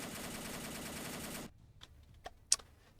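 A bomber's defensive turret autocannon in From The Depths fires a dense, rapid burst for about a second and a half, then stops, leaving a few sharp clicks and ticks.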